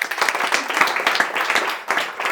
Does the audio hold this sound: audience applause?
yes